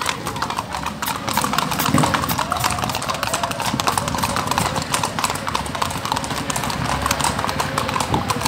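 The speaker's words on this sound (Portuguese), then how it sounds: "Cavalão aí branco, ó, representando" Hooves of a large white horse clip-clop steadily on the ground during a horseback ride event at a ranch, a rapid continuous clatter, close and fairly loud.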